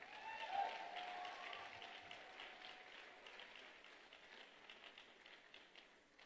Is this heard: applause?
yes